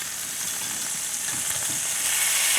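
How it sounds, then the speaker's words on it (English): Pot roast meat browning in a hot pan, a steady bright sizzle and crackle of frying fat that holds throughout and builds slightly louder toward the end. "This is a very wonderful piece of meat browning perfectly."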